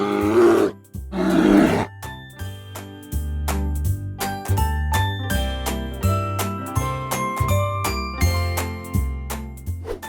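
A bear gives two loud, deep grunting roars at the start, followed by a jingly tinkling musical tune.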